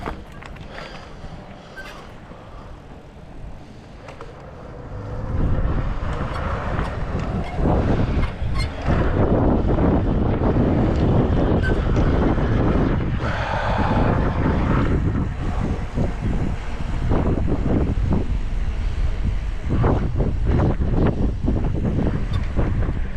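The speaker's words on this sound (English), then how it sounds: "It's very windy out" Strong gusting wind roars loudly and steadily across an outdoor street at night in Las Vegas, buffeting the microphone with deep rumbling bursts while a mountain biker rides, with no talking.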